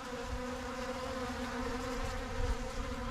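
Honey bees hover above old hive frames in the back of a truck, giving a steady, close swarm buzz that stays even throughout.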